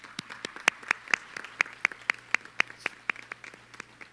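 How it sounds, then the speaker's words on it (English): Audience applause at an annual shareholders meeting in a hall, sparse and uneven, with individual claps standing out sharply against a soft background patter for about four seconds. "we'll give you a round of applause"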